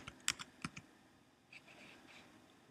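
Typing on a computer keyboard, a quick cluster of close, faint key clicks followed by a few lighter taps, with no talk.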